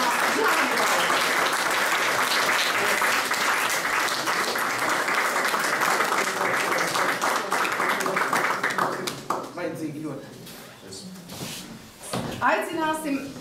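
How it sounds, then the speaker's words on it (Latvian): Loud, sustained audience applause fills a hall at a municipal reception hosted by the Dagda county council chair, dense clapping for about nine seconds before thinning into scattered claps. "Skaļiem aplausiem aicināsim Jāni Vaišļa."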